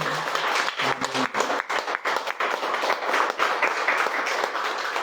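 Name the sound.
congregation applause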